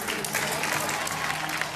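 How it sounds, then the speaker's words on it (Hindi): A studio crowd at the Bigg Boss grand finale claps in a fairly soft, steady burst, many hands blending into an even patter heard from a distance. "गैलेक्सी के लिए तालियां"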